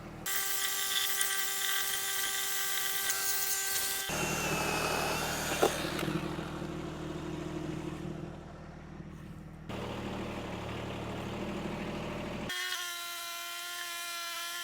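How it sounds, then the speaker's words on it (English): An 18-inch electric chainsaw whines steadily through a large log at moderate distance. Its pitch shifts between bursts of cutting and lighter running. "this little 18-inch electric chainsaw actually does pretty good with these bigger logs"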